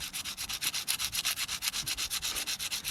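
Rapid rhythmic strokes of light 100-grit sanding rasp back and forth over a forged silver bracelet, removing forge marks: a steady scratchy pulse of light abrasion on metal, close and alone.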